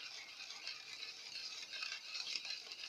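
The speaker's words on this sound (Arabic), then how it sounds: "ضربت كويس بالمضرب اليدوي لحد ما السكر بتاعي اختفى تماما" Soft, continuous scraping and swishing of a hand whisk beating oil and sugar together in a bowl for a fruit cake batter, steady and close, with no talking.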